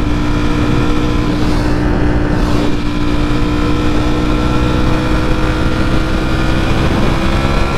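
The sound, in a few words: loud motorcycle engine while riding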